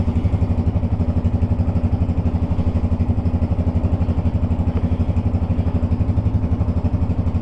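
A 1996 Yamaha Wolverine 350 4x4 ATV engine idles steadily at close range, a fast even low-pitched putter that runs unbroken and alone throughout.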